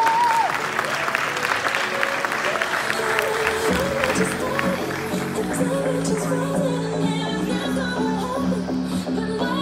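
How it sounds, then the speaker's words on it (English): Steady, loud applause and scattered cheers from the audience at an NPC bikini fitness competition awards announcement, sustained clapping filling the hall without pause. "let's give these ladies a round of applause"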